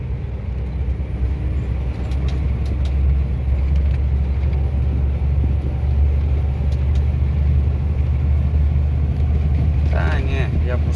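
An empty harvest truck rolls steadily down a road, its low engine rumble and road noise continuous and fairly loud throughout, with a few faint clicks and a brief higher sound near the end.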